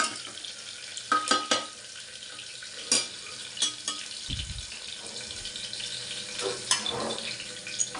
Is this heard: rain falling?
no